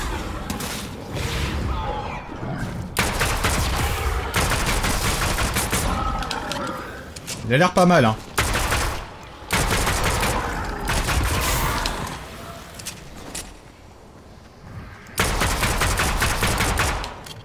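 Combat pistol shots fired at zombies in Fortnite Chapter 2 Season 8, coming in repeated bursts of rapid close shots separated by short pauses, with someone talking between and over some of the volleys.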